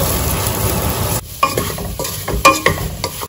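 A pot of soybean curry with beans, potato and tomato cooking on the stove, a close, loud sizzle and hiss broken by scraping stirs and clinks of a spoon against the pan, with no voices.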